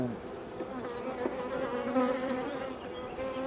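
Many young honeybees buzz in a close, continuous drone at a beehive, a dense humming swarm with no talking.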